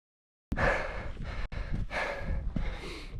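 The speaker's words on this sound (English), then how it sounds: "Heavy breathing." Heavy, rapid breathing of a hiker climbing a Scottish mountain path near the summit in Fisherfield, repeated close gasping inhales and exhales in a steady rhythm.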